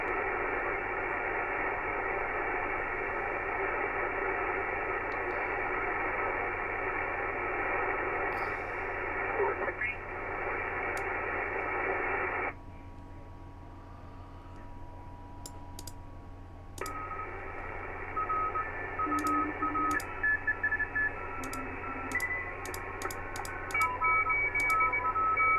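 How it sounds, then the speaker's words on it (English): Amateur radio receiver (Yaesu FT-891) hissing with steady static, then a high, clipped Morse code tone keying in short rapid dots and dashes over the noise in the latter part. "Plenty of Morse going on."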